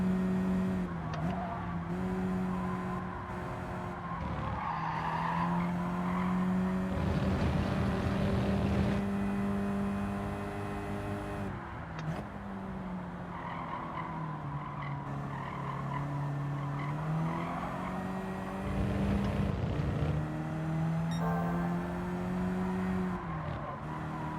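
Race car engines in the Gran Turismo 7 video game, a slow car in an online race, droning and rising and falling through gear changes, with bursts of tyre squeal and other cars passing, continuous and steady in level.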